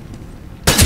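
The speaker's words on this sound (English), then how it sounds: "Deploying flashbang." A flashbang grenade going off in a team-based shooter video game: a single sudden loud bang after a quiet lead-in, ringing on briefly at full strength.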